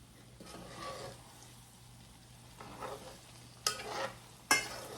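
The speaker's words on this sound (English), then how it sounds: "Now this is to fry squash." Yellow squash frying in a pan gives a soft, steady sizzle, with a few brief sharper crackles and clinks near the end; no voices.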